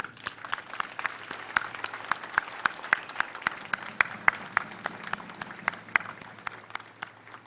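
Graduates clap at a university graduation ceremony, with sharp individual claps standing out in an uneven, moderately sparse rhythm that continues steadily and fairly close.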